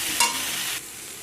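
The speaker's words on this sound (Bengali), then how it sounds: "আলু আর বেগুন আমি ভালো করে ভাজা করে নেব।" Potato and eggplant pieces fry in a pan with a close, steady sizzle and a brief stirring scrape near the start. The sizzle drops to a quieter hiss partway through.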